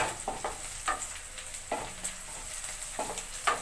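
Onions fry in a pan until reddish brown, a soft sizzle broken by repeated scraping stirs at irregular intervals, close and quiet with no voices.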